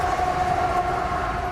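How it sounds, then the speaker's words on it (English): Freight train rumbling right by through the town of Lyndon, a close, steady roar with a sustained horn tone riding on top, heard alone for a brief moment. "The number one complaint is this train coming right by."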